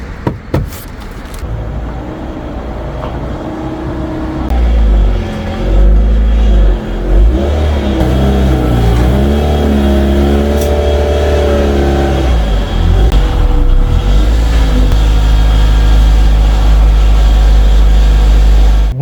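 A Honda Integra Type R DC2 engine revs loud and close, with rising and falling harmonic sweeps through repeated blips. No one speaks.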